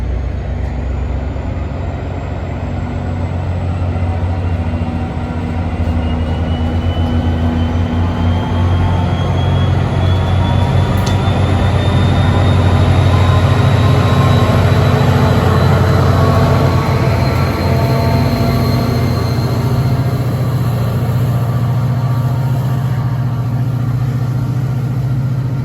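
An NJ Transit train rumbles past at close range in Ho-Ho-Kus/Ridgewood, New Jersey, with a steady loud drone of engine and wheels, a rising whine overhead and clattering rail noise that builds and holds throughout.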